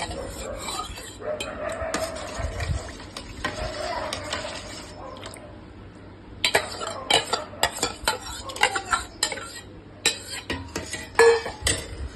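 A spoon stirring tender coconut payasam mixture with ground tender coconut and chopped coconut flesh, repeated clinks and scrapes against a metal vessel that grow sharper and more frequent toward the end, close by.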